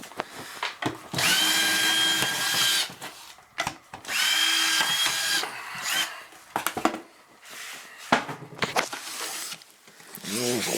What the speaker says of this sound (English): I'll open the wall up so I can drill down through the sill